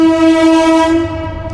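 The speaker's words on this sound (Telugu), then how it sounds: "ట్రైన్ వెళ్తుంది" A loud, sustained train horn blares steadily for over a second, with the rumble of a passing train beneath it, close by.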